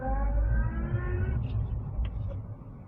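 A car pulls away in first gear, its engine note climbing in a steady rising whine over a low rumble that eases off after a second or so, close and fairly loud with no talk.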